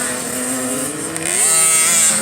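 Motocross bikes on a practice track, a steady buzzing engine drone at moderate distance with a slight rise in pitch as one accelerates.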